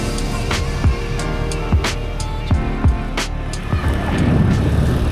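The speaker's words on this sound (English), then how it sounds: "So we're driving through the heart of Kathmandu right now, you guys." Car driving through busy Kathmandu streets near Kali Mati, a steady engine and road rumble with several short horn-like blips and thumps at intervals and wind buffeting toward the end.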